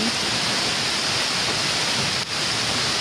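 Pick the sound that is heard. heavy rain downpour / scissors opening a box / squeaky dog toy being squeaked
heavy rain downpour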